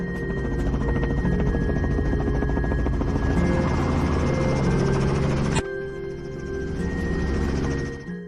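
A helicopter flies low over rough country during a wild boar hunt, its engine and rotor roaring steadily and close with a dense throbbing drone. The roar drops abruptly partway through, then carries on somewhat quieter with the same rotor churn.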